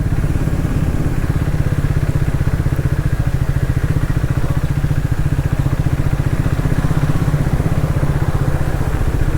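A motorcycle engine idles steadily and close by, its fast, even low thumping pulse running without a break and holding a constant level for the whole stretch.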